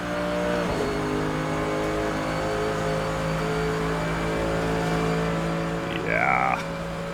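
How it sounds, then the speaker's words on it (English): Mercedes-AMG GT3 race car engine in the video game Assetto Corsa, accelerating uphill at the Nordschleife with a sustained, close-up roar and a steady harmonic whine, then a brief rising rev near the end after a gear change. "Powering our way up the hill here. That big old AMG engine."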